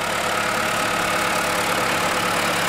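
A tractor engine idles steadily and loudly, a continuous low rumbling chug with no pauses and no voices.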